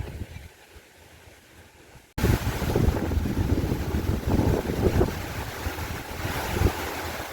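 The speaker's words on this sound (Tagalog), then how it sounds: "Sobra-sobra ang hangin, guys." Loud, roaring wind in a forest buffets the microphone in heavy gusts, a dense rushing noise that cuts in suddenly after a quieter start.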